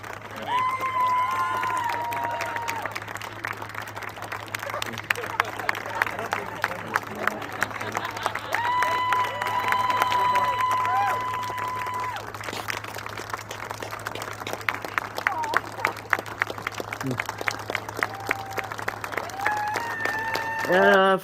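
Sustained applause from a large crowd, steady and loud, with scattered cheers and voices talking underneath.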